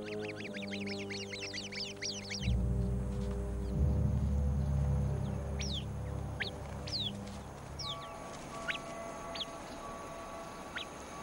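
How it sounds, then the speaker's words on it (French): Birds sound sharp, repeated alarm calls at a viper, mostly rising chirps scattered across the clip over a steady low rumble. "L'oiseau sentinelle sonne immédiatement l'alarme."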